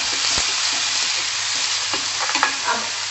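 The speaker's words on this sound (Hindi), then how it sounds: "अब हमने इसमें सबसे पहले लहसुन डालना है। बिस्मिल्लाह, इसको हमने अच्छी तरह से भून लेना है" Garlic frying in a pan for a chicken and spaghetti dish, a loud, constant sizzle with scattered stirring clatters toward the end.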